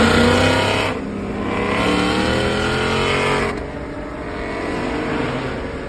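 An Audi RS3 and a Mustang 5.0 race past at full throttle, their engines roaring loud and close and then fading, with a second rising engine wail following the first, and no talk.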